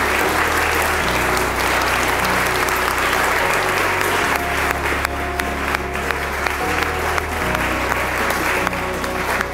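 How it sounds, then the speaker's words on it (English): Wedding guests at a hotel and spa applaud the newlyweds, a loud, continuous round of clapping over a steady low musical drone. "Shall we give them a round of applause?"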